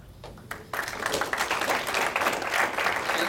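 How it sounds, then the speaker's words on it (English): An audience at a July 2012 storytelling talk breaks into applause after a brief quiet lead-in; dense, steady clapping from many hands fills the room and stays at an even level to the end. "Give another round of applause to Viz and also our small team here"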